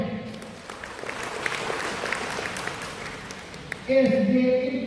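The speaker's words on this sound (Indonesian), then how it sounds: "Aplaus." Steady crowd applause fills a school program launch event for the Future School Program in Flores Timur, a sustained wash of clapping that runs for several seconds before a voice starts speaking over the hall.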